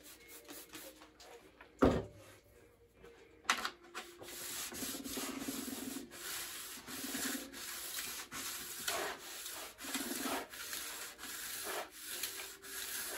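Ski edges being sharpened at a side angle with a fine-grit stone of around 350 to 360, giving steady rhythmic scraping strokes up close, with a couple of sharper knocks early on.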